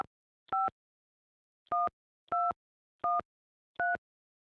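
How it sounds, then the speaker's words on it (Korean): Telephone number being dialed on a keypad: five separate tone beeps, the first alone and the other four in a fairly even rhythm, clear and isolated against silence. "제가 전화해 볼게요."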